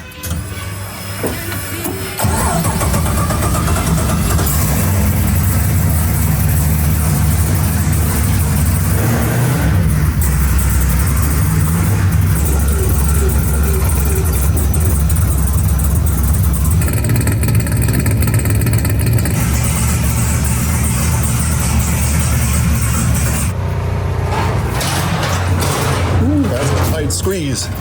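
A BMW E36 project car with a loud aftermarket exhaust fires up near the microphone, then holds a steady, heavy engine roar with revving for most of the stretch, with voices talking over it.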